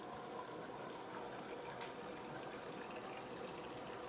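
Water pours steadily from a tap into a cup in a home kitchen, a continuous, even rush of running liquid lasting the whole stretch with no voices.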